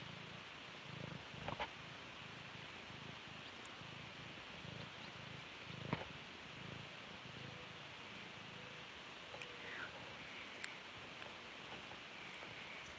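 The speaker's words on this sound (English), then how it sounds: "I could like record just this cat purring and stick that on as its own little video of ambient animal noises" A loud cat purring up close in a quiet rural South Dakota home, a soft continuous rumbling purr pulsing steadily with faint background hiss and a few small clicks.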